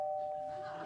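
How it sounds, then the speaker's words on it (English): A doorbell on a late-night television talk show studio set rings once with a sustained electronic tone that gradually fades, heard clearly with nothing else over it. "I didn't know we had a doorbell."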